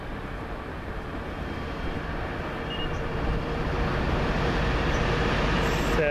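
A freight train rumbles past in a steady broadband roar that swells gradually louder, close and continuous, with no voices.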